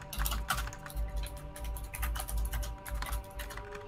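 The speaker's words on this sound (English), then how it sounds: "And you guys are all violently typing, Jesus!" Several players hammer hard on computer keyboards, a dense, rapid clatter of keystrokes with irregular bursts, close and fairly quiet, with no voices over it.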